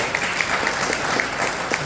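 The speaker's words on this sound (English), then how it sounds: "Round of applause for them." Audience applause fills the space, a steady dense patter of many hands clapping with no voices over it.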